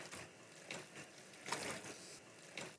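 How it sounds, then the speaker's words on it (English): Rinse water poured from a washbasin into a sink during a bed-bath cleanup, a close, steady splashing rush with a few louder surges, and no voices. "and then dispose of the rinse water into the sink as well."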